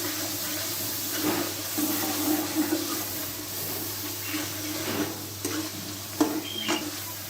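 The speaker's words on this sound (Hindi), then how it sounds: "मसाले को भूनने दें ऑयल आने तक।" Spice masala roasting in oil for dal makhani with a spinach tarka gives a steady low sizzle, broken by a few soft stirring scrapes over about seven seconds beneath a constant background hum.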